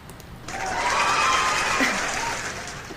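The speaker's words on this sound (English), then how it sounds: "We're clapping." A small group of people clapping, a steady patter that rises after a brief pause and keeps going at moderate volume with faint background voices.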